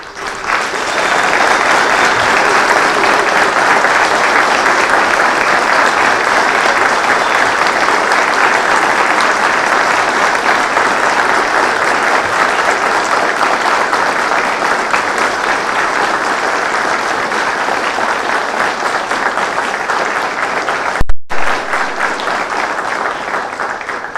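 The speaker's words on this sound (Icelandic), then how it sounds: "við ætlum að gefa öllum virkilega gott klapp" A large graduation crowd at Menntaskólinn á Egilsstöðum gives new graduates long, loud, sustained applause, a dense even roar of clapping lasting over twenty seconds with a brief dropout near the end.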